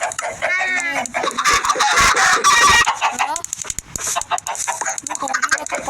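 Chickens flap and cluck in a Minecraft game, a busy run of loud close squawks and clucks with a dense burst in the middle, and no one talking over them.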